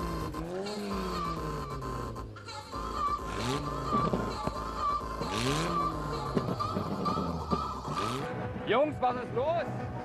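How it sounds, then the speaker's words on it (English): A twin-engine Opel Corsa strains through a burnout at a burnout championship in Saxony, its engine rising and falling in long revving sweeps while the tyres squeal in bursts. Loud and close, with a voice talking over it. "The brothers Göhler floor their dual Corsa at the Burnout Championship"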